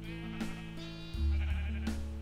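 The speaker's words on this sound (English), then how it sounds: "Why isn't the sheep dying?" Sheep in Minecraft with the RotaryCraft mod let out several short bleats over a steady electronic hum, and a louder low drone swells in halfway through.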